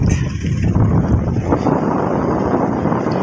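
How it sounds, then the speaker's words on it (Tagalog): Strong monsoon wind in the Philippines roars and buffets steadily against the microphone, a loud continuous rushing gust with no voices. "malakas pa rin ang hangin dito sa aming kinalalagyan"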